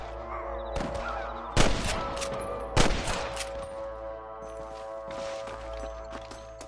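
Gunfire in a cowboy-themed video game: two sharp, loud shots crack out a little over a second apart, followed by fainter scattered bangs and some clattering over a low rumbling backdrop.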